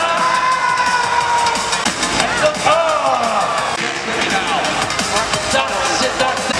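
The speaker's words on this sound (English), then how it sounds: "So give Mark a cheer as he comes by" Crowd cheering at an Arenacross motocross event in Aberdeen, a loud, dense arena roar of voices and shouts with whistles and hubbub, continuous throughout.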